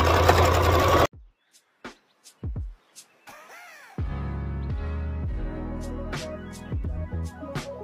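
A sewing machine runs a half-inch seam on fabric for a daisy top, loud at first, then stopping for a few short stitch bursts before resuming a steady close whirring run.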